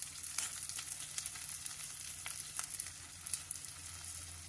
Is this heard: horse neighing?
no